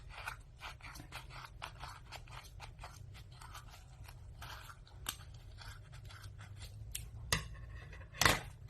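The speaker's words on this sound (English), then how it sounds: "I take it and I put in the scissors all the way through" Scissors snip again and again through a tied, wrapped bundle of yarn being cut into sock-puppet hair. The steady crisp cuts sound close and quiet with no talking, ending in a few louder final snips.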